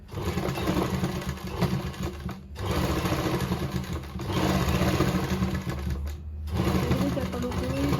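A sewing machine runs steadily, stitching the neckline of a kurti, with two brief pauses in the motor hum and a continuous mid-level whirr throughout.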